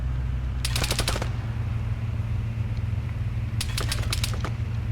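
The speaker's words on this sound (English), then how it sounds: "I'm already taking fire from an auto rifleman." Auto rifle fire in Arma, heard as two rapid bursts of about eight to ten shots each, sharp and close, over a constant low engine-like rumble.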